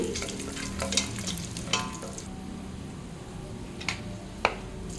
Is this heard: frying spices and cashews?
yes